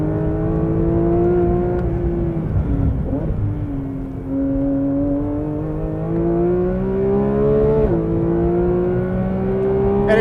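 A 2022 Porsche 911 GT3 engine revs hard on the Road Atlanta race track, a loud steady high-pitched wail that rises and dips with each gear change, continuous and close throughout.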